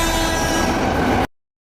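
A train rumbles steadily past with a horn sounding over the rolling clatter in a Korean horror film set around a ghost station, loud and close, then it cuts off abruptly into silence.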